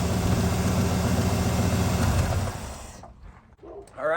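An engine idles steadily just after being fired up and left running to settle the oil, giving a loud, dense rumble that drops away abruptly near the end, leaving faint rustles.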